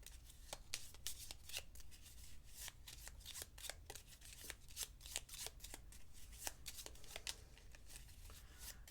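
Quick riffling shuffles of board game cards, a steady flurry of crisp snapping flicks repeating over several seconds, close and fairly quiet, with no talking.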